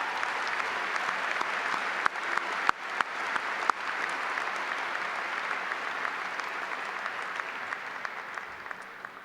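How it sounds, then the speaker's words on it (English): Graduation audience at Wayzata High School applauds steadily in a large hall, a dense, even wash of clapping sustained throughout with a few sharper claps standing out near the start. "Could you please join me in a round of applause for all who have contributed to make this happen tonight?"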